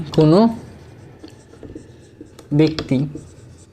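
Chalk or marker scratching on a board during a physics lecture, faint scribbling strokes between two bursts of a man's speech.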